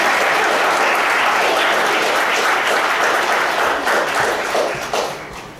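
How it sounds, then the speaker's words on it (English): Audience clapping at a stage hypnosis show, a full, even burst of applause lasting several seconds before trailing off. "Give them a round of applause."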